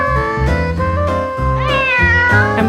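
A kitten meows repeatedly, loud and close, a run of separate pitched cries with one longer rising call in the middle, alone with no talk.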